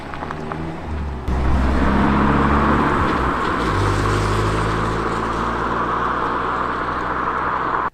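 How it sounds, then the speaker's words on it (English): A car engine rumbles close by outside a camper van at night, swelling suddenly after a quiet moment and then idling steadily. "I heard a car pull up"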